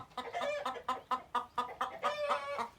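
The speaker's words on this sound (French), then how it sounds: "il y a une poule là qui va sûrement vouloir pondre" A hen clucks in a steady series of short, close calls, about a dozen bursts in quick rhythm with no talking.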